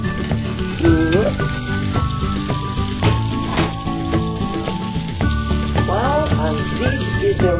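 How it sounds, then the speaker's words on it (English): A tuna omelette with red onion fries in a pan, giving a steady broadband sizzle with a few brief clatters and a faint voice-like tone partway through. "put it back in the pan, in the fryer pan, carefully to let it cook for both sides"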